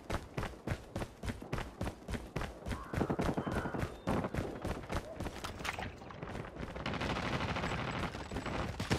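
Rapid automatic gunfire in the shooter game Call of Duty Mobile: a steady, evenly spaced string of loud, close shots that gives way to a denser, continuous wash of fire and noise.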